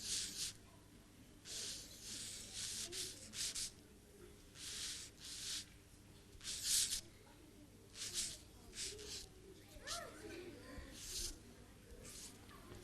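A pen sketching a red motorcycle doing a wheelie on paper, repeated soft scratchy strokes in short bursts with pauses between them, close and quiet, with faint murmuring in the background.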